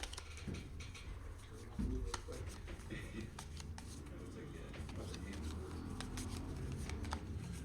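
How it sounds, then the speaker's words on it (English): A deck of cards being shuffled during a virtual tabletop game, with quiet riffling and patter bursts and soft card snaps, faint and close, while people talk over it. "We're going to get this all shuffled up again."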